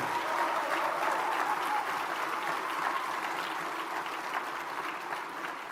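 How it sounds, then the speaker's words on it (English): An audience at a motivational speech gives a round of applause, a thick, sustained clatter of many hands that holds strong and then tapers slightly over several seconds, with no speech. "You ought to give yourselves a round of applause."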